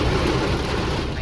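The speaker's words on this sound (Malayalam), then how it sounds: "ഭയങ്കര മഴയും." Heavy rain at Ponmudi, a hill station in Kerala, pouring as a dense, loud, steady wash of noise close by, with no talking.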